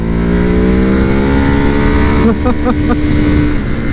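A 2014 Ducati Hypermotard SP motorcycle engine drones loudly up close, its pitch sliding steadily as the revs change, with a brief stutter near the end.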